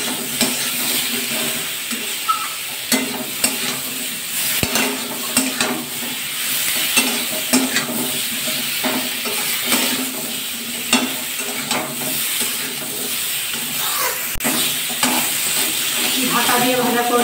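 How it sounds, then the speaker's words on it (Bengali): Eggplant frying in a pan with turmeric over a high gas flame, stirred steadily for the whole stretch: a constant loud sizzle with repeated scraping and stirring knocks. "ভালো করে নাড়াচাড়া করে নেব।"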